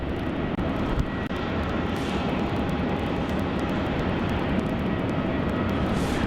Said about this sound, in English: that Qantas 717 taking off on runway 27 is about to roll down off to Canberra